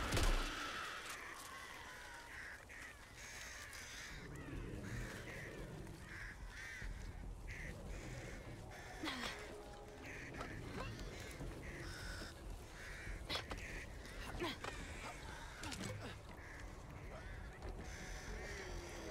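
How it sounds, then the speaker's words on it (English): Crows cawing around a game scene in the shooter Back 4 Blood, scattered harsh caws over a noisy, busy ambient bed with occasional faint voices, moderately distant. "We have birds all over the place."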